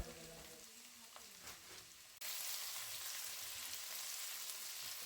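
Whole garam masala spices fry in oil with garlic and ginger paste for a whole chicken roast. A quiet sizzle with a few stirs gives way to a sudden, much louder hiss as the paste goes in, then steady, close frying.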